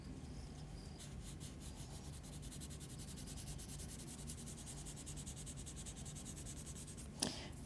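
Derwent Academy watercolour pencil sketching on paper, a steady, close, continuous dry scratching and rubbing of pencil lead across the sheet, with one sharp tap near the end.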